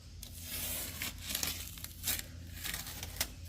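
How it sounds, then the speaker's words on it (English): Masking tape pulled and laid along the edge of a 1968 Oldsmobile 442's body before painting, a steady close crackle of tearing and crinkling with a few sharper rips, no voices. "I just taped it along the edge right there"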